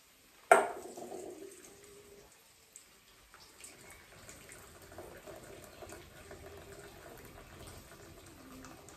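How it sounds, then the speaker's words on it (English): Cooked pasta is drained in a kitchen: a sudden splash as the pot is tipped, then a softer, steady stream of water running and trickling away for several seconds. "So now let's drain the pasta."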